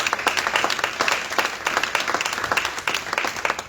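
A church congregation claps together during a worship service, dense and steady applause filling the room at a fairly loud level, with a faint voice underneath.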